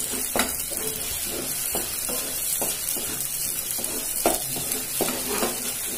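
Ginger sautés in oil for a pickle, giving a steady close sizzle. Soft scrapes and light clinks from stirring repeat throughout.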